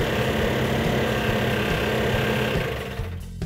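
Rebuilt 340 V8 engine running rough on about six cylinders, a steady loud idle with an uneven low throb that holds for about three seconds, then eases off near the end.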